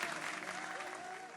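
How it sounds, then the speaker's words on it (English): A short, steady round of applause from a crowd, clapping continuously at moderate volume throughout. "not drum roll, round of applause"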